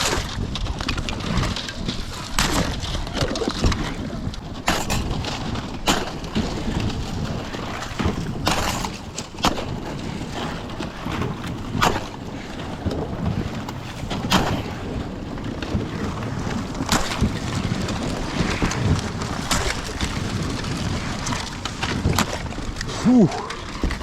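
A small boat pushes through thin ice on a half-frozen pond, giving repeated cracking and crunching bursts over wind noise, close and fairly loud throughout.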